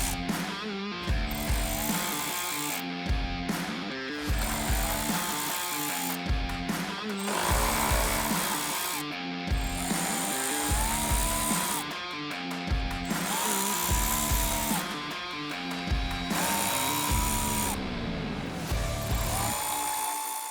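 Power tool buzzing and whining in repeated loud bursts as 10mm bolts come out of the wheel well of a 2023-or-newer Toyota Sequoia, close up with short gaps between runs.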